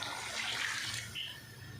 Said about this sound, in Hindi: हमने 2 कप चावल लिया है तो हम इसमें 4 कप पानी ऐड करेंगे।